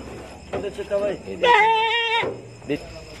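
Goats bleat at a livestock farm during loading, a strong wavering cry in the middle with shorter calls around it, under a voice talking.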